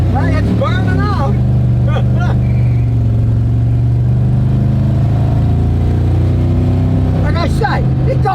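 A big, heavy hauling truck built for pulling accelerates hard from a stop and burns out, its deep engine roar loud and close and rising steadily while voices talk over it at the start and end.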